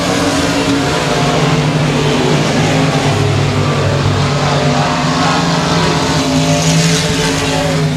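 Race cars roar together around the oval at Sabine Speedway, a loud sustained engine drone that holds steady throughout with no talk.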